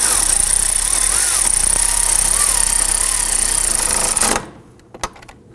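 A power tool snugs down steering knuckle bolts on a 2005-2009 Subaru Legacy, giving a loud, steady whirring buzz for about four seconds that stops abruptly and leaves a few faint clicks and knocks.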